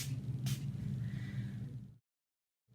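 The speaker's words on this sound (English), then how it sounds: "I'm going to hit it with a little bit of setting spray" A single quick mist of makeup setting spray hisses close by over a low, steady background hum, followed by silence.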